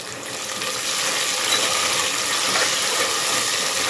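Soaked dried peas sizzle in a hot pan for vegetable pulao, a steady close hissing crackle that holds evenly throughout with no talk.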